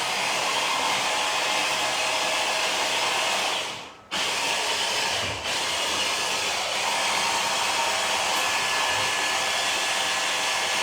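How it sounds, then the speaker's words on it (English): A loud blender runs steadily, pureeing braised chicory into a rough puree, its motor a dense, constant roar with a brief dip and catch around the middle before continuing at full power. "you might want to turn your volume down because this blender's quite noisy"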